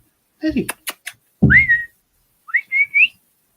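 Someone whistles to call a young puppy at an outdoor metal detecting show: a few short whistled notes, then a rising two-part whistle near the end, with brief voice sounds at the start.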